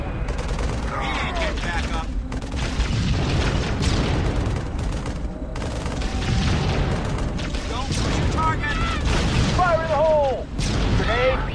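Grenade blasts and heavy gunfire in the Halo Wars strategy game, a dense, continuous barrage of booms and crackling shots with whistling streaks, loud throughout with brief lulls and battlefield voices over it.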